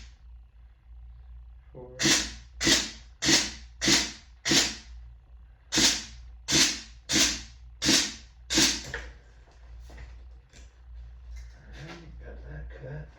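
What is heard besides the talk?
pneumatic cutter cutting crab trap wire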